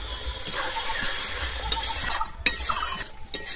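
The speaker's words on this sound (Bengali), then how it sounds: "আমি চালমগজ আর কাজুটা দিয়ে খুব ভালোভাবে আবারও কষিয়ে নেব।" Cashews and melon seeds being sautéed in a pan for a Bengali jackfruit kofta curry: a soft sizzle under repeated scraping stirs, with a few sharper clinks of utensil against metal near the end.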